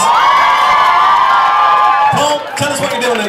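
A bar crowd at a university rag week event cheering and whooping loudly, a dense close roar of voices with shouts that briefly dips and then rises again.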